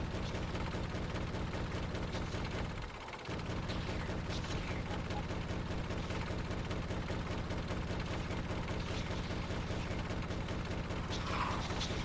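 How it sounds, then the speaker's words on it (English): Shotgun or cannon pellets fire repeatedly in Factorio, a dense, continuous rattle of rapid gunfire-like bursts holding steady and loud, with a brief dip partway through. "time for shotgun pellets anyway, or shot cannon pellets"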